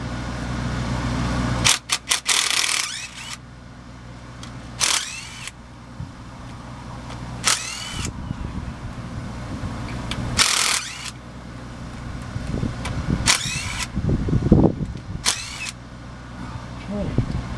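Power tool with a 9/16 inch socket running bolts out of a Chevy G-506 transfer case, several short whirring bursts close by, with talk and clatter in between.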